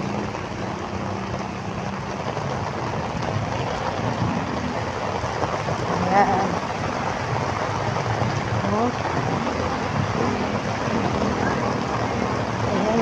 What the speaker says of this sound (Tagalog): Ayan, lakas, sobrang lakas ng ulan. Mahangin pa.